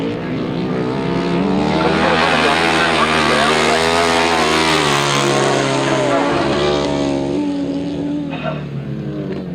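A works grasstrack racing motorcycle at a 600 grasstrack meeting revs hard and continuously, its loud engine drone rising and holding steady on a race circuit, with commentary running over it.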